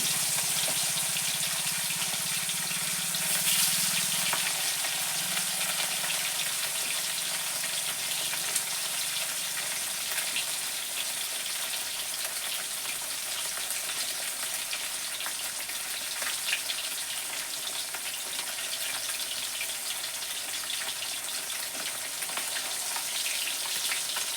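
Fish frying in a pan in a home kitchen, pieces of a large freshly cut fish; a steady, even oil sizzle hisses continuously throughout at moderate loudness, with no talking.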